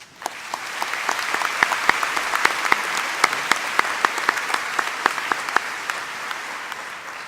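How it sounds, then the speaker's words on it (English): Graduation ceremony crowd applauding faculty and staff, a broad, sustained roar of clapping with sharp individual claps standing out near the front, steady for several seconds before easing slightly. "Please join me in giving them all a round of applause"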